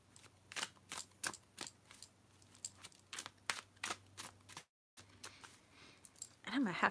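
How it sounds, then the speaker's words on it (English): Tarot cards being shuffled by hand, a rapid series of crisp riffling snaps and soft slaps in short bursts, close and fairly quiet, with a brief pause near the end and a faint voice at the close. "I'll just shuffle my cards while you find your question again."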